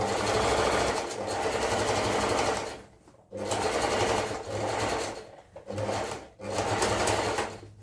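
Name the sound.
sewing machine stitching a seam on baggy pants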